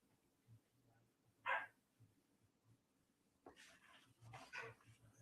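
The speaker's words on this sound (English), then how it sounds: "I got my dog barking in the background" A dog barks a few times in the background of a quiet room, faint, short yelps and a louder burst standing out over low hum.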